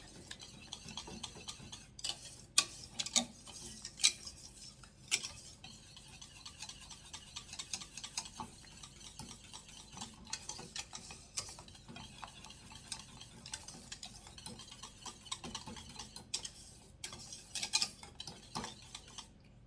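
Butter whisked into a coconut cream cake filling in a bowl, a faint close sequence of irregular metallic taps and clinks of the whisk against the bowl, alone and steady throughout.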